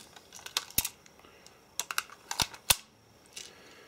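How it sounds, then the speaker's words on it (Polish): Magazine release on a Crosman Stinger 311 airsoft pistol, a series of quiet sharp plastic clicks and snaps at irregular spacing, close and isolated with no talk. "Spust magazynku działa."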